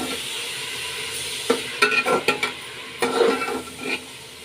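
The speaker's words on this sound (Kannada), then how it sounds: "ಈಗ ಬಾಯ್ಲ್ ಮಾಡ್ಕೊತ ತರಕಾರಿ ಸೇರಿಸ್ಕೊಳ್ಳೋಣ ಬಟಾಣಿ ಕ್ಯಾರೆಟು ಹುಳ್ಳಿಕಾಯಿ ಕ್ಯಾಪ್ಸಿಕಮು" Mixed vegetables (peas, carrots, beans and capsicum) stirred in a hot pan, with a steady sizzle under a series of scraping, clattering spoon strokes that come in short bursts, close and fairly loud.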